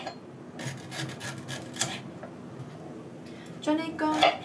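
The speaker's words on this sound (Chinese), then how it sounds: "我就喺上面切些小姜。" A knife cuts ginger into thick strips on a board for an eel pot dish with ginger and scallions, giving soft repeated chopping taps, with a few brighter knocks near the end.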